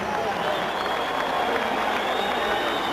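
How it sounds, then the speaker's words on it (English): A boxing arena crowd applauds the challenger Vinny Pazienza after a knockout in a Roy Jones Jr fight, with dense, steady clapping and crowd roar filling the space throughout. "A round of applause for the game challenger who came in here tonight"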